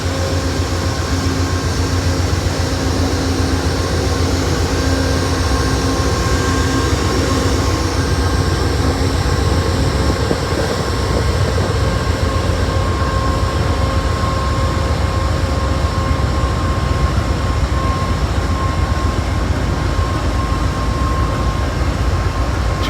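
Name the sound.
Amtrak train with General Electric locomotives passing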